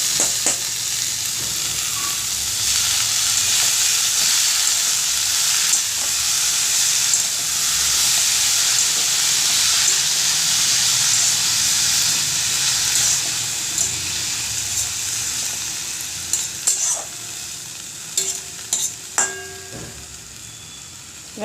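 Washed red amaranth leaves fry in a pan with a loud, steady, hissing sizzle that continues throughout, with a few clinks of stirring near the end and no talking.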